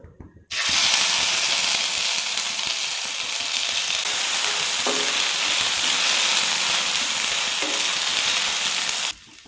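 Crushed ginger, garlic and green chili sauté in hot oil for Kerala-style aloo paratha. A loud, dense sizzle bursts in at once and holds steady, with a couple of faint stirring knocks, then cuts off near the end.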